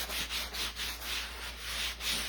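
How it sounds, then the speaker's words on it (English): A sanding sponge rubs over a first coat of paint in slow, rhythmic back-and-forth strokes, about eight soft, close scrapes with no talking. "We are going to use the sanding sponge."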